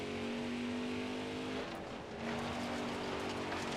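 A race car engine in NASCAR Heat 4 on a qualifying lap holds a steady high drone, with a brief dip and recovery midway as if the car lifts and reaccelerates, with no talk.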